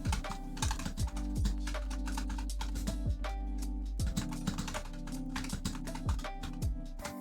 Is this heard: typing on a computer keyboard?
yes